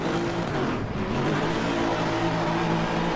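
A race car engine idles and revs steadily in Assetto Corsa Competizione, a loud, continuous motor drone with no talk over it.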